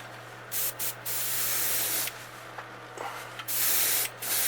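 An airbrush hisses in short and longer bursts as it sprays silver paint onto a bluegill fishing bait, a steady airy spray broken by brief pauses, with a low hum underneath.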